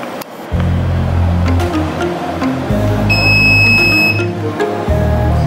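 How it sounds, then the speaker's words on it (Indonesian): A melting point apparatus sounds a brief electronic beep tone over a loud, steady low mechanical hum that shifts pitch several times. "setelah alat melting point aparatus mengeluarkan bunyi beep"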